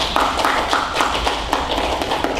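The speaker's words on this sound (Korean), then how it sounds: "우리 같이 우리 환영의 박수 한번 하겠습니다" Church congregation at a Sunday worship service claps in welcome for a returning member, a steady, dense patter of many hands filling the room at close range, with no talk over it.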